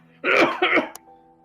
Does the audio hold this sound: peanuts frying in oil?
no